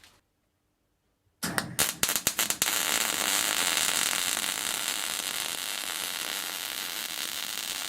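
An amateur arc welds a lawn mower part held in a vise: after a second of silence come a few sharp crackling strikes, then a loud, steady buzzing sizzle that carries on to the end.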